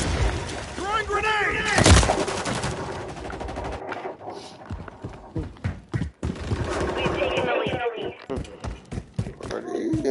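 A grenade blast and gunfire in a first-person shooter video game, a sharp boom followed by scattered shots and impacts, with someone talking excitedly over the action throughout.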